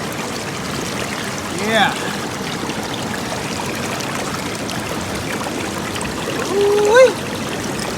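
Creek water flows steadily through a gold sluice box in a continuous rushing trickle heard close by, while a man's excited exclamations break in twice over the running water.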